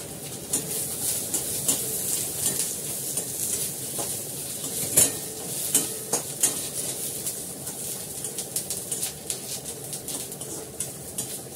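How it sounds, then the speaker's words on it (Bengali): Chow mein and curry leaves stirred in a pan, with a metal spatula scraping and clinking in irregular strokes over a soft, continuous sizzle of frying, close up and without talk. "এবার চাউমিনটা দেবো, আর আগে কারি পাতাটা দিয়ে দেবো।"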